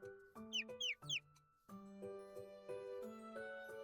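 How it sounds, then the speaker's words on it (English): A bird whistle in a video game sounds a few quick chirping trills, followed by sustained tonal music notes, clear and moderately loud. "He blows the bird whistle,"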